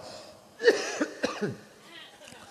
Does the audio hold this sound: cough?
yes